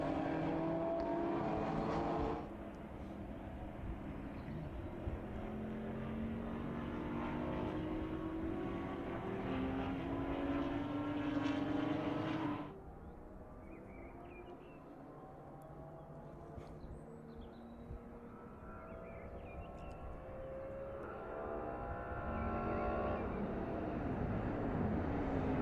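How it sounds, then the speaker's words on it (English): A Porsche Kremer K3 "Moby Dick" race car roars past at the Red Bull Ring during a historic race. Loud engine drones rise and fall through gear changes, with other cars passing, and a quieter stretch in the middle. "Der Porsche Crema K3. Oder im Volksmund auch Moby Dick genannt."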